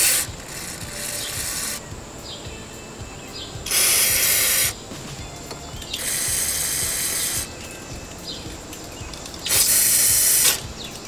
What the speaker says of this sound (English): We're going to use this seafoam spray cleaner to clean these carbon deposits